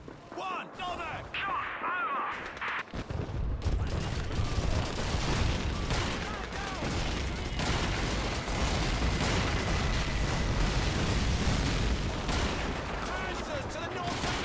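A WWII strategy video game rumbles with continuous gunfire and artillery, a dense, loud wash of shots and booms that starts suddenly after a brief quieter opening, with voices talking over the battle.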